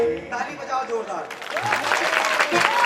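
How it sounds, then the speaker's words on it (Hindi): Loud applause from a crowd at a devotional bhajan gathering in Unnao, dense steady clapping swelling in and overlapping singing and voices. "ताली बजाओ जोरदार।"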